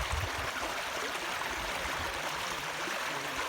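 Water pours steadily through a hole blasted with Tannerite in a beaver dam in San Augustine, Texas, a continuous close rushing flow with low gurgling churn and no talk.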